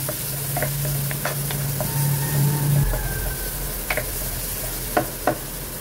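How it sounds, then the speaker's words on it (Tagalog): Onion and garlic sautéing in oil in a pan, a soft continuous sizzle under a low steady hum, with scattered utensil scrapes and a couple of sharper clicks toward the end. "Isunod natin dito yung sibuyas at bawang. Ayan, gisahin lang natin ito."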